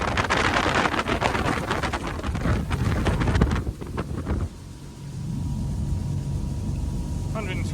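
A Windy 39 Camira motor yacht cruises at nearly 30 knots near Mallorca, with heavy wind buffeting and water rush giving way to a steadier low engine drone, loud and close, while someone talks over it.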